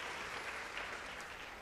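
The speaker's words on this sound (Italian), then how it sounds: "un applauso, facciamo sentire il calore del pubblico di Bagnara" An audience at the Premio Mia Martini event in Bagnara, Calabria, applauds for Ivan Segreto: dense, fairly faint clapping from a crowd that holds steady for the short stretch, with no speech over it.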